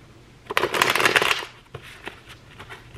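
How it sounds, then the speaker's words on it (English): Tarot cards are shuffled by hand close up, a dense riffling burst followed by a few lighter taps and slides. "We gotta shuffle these."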